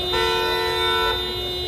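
Vehicle horn held in stuck traffic, a loud steady tonal blast lasting about a second, followed by a fainter horn tone over low engine rumble.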